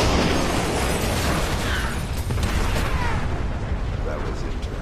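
A frag grenade goes off in the stealth shooter Splinter Cell: Conviction, a loud, dense broadband blast whose rumbling roar fills the whole stretch without decaying, close and overpowering, with faint voice-like sounds mixed in.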